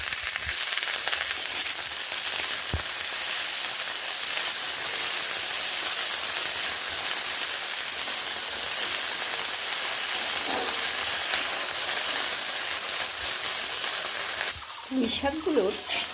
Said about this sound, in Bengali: ডাটাগুলোকেই শুধু আমি এইভাবে ভেজে নিচ্ছি